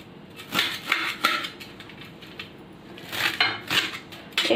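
Knife chopping fresh dill (shepu) leaves on a board, a run of close, uneven chopping taps with short pauses in between, alone and fairly loud.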